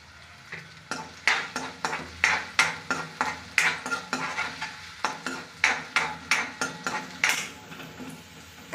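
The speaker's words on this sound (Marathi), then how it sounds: "आता आपण कांदा टाकून घेऊया, कांद्याला फ्राय होऊ देऊया आपण गोल्डन कलर येईपर्यंत।" Onion frying in hot oil for Mumbai masala pav is stirred briskly. About twenty sharp, regular scraping strokes ride over a continuous close sizzle, with no voices.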